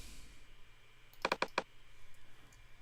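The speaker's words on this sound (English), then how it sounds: "I'll type in" A handful of quick keyboard keystrokes on a computer, typing a title into music notation software, clustered in a brief burst against a quiet background.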